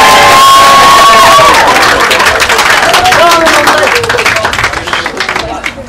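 Wedding guests break into loud applause and cheering for the father of the bride: a dense wash of clapping with shouts and whoops on top, fading slowly.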